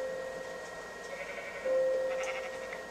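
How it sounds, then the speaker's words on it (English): A sheep in the video game Minecraft bleats once in a short, moderately loud call over quiet game ambience, with no talking. "Wait, sheep."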